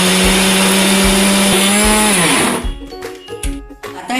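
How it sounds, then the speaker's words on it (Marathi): A kitchen mixer grinder blends corn with ginger and coriander for corn upma masala, running as a loud, steady motor whine that stops partway through, leaving a few clunks and rattles. "आता हे आपण मिक्सरला वाटून घेऊया"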